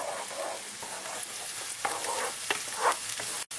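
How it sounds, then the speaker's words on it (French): Asparagus frying in butter and olive oil for a risotto gives a soft continuous sizzle, with a few scraping stirs of a utensil in the pan, close and moderate in level. "un peu de beurre, un peu d'huile d'olive, sans laisser dorer. On rajoute les asperges."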